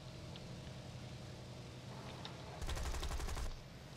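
A burst of rapid machine-gun fire from an aircraft's dual guns in War Thunder, lasting about a second over a steady engine drone, fairly faint overall.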